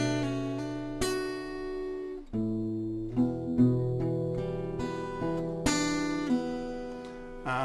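Acoustic guitar plays the intro of a song as a simplified lesson version, with plucked notes ringing and overlapping, bass notes at steady intervals and a few strong accented attacks, clear and close with no talking.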